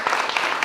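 An audience claps loudly and steadily in a short, dense burst of applause at a coaching class event in Rath, Uttar Pradesh.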